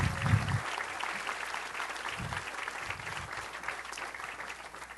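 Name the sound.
audience applause at hooding ceremony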